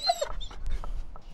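A large dog gives a brief, soft whimper with a few high whiny yips over low background rumble.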